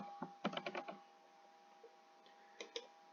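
A quick burst of soft keyboard taps comes close and quiet, followed by a lull and then two more isolated keystrokes against a faint steady hum.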